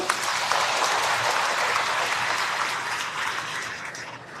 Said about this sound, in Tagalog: Palakpak naman kayo.